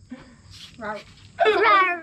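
A person imitates a dog with a few short yips and a longer barking howl, voiced close up.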